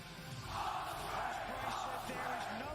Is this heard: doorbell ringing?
no